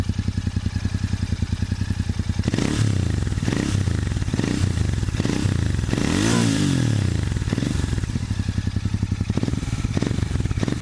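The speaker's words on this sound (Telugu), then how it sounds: "ఇది ఎగ్జాస్ట్ నోట్" A Royal Enfield GT 650 twin runs close by, its exhaust thumping in a fast, even pulse with several throttle blips that swell and fall back, one peaking near the middle.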